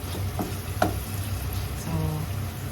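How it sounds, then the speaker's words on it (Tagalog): Chicken pieces browning in a pot as the first step of Filipino creamy chicken sopas, giving a steady close sizzle with a few sharp clinks and stirring scrapes and no talking. "Hintayin natin na medyo mag-brown yung ating chicken."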